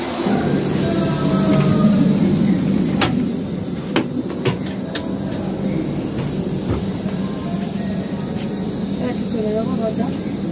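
A passenger train on the Howrah to Barkakana route rumbles steadily from inside an AC three-tier coach, a low continuous roar with periodic clanks and knocks from the carriage, fairly close.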